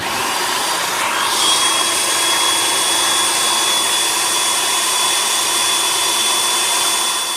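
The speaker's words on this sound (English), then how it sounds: "Pop the top on. It's nice and warm, and hit puree." A blender purees a warm black bean, mushroom and onion burger mix, giving off a loud, steady motor whir that runs without a break and rises slightly just after it starts.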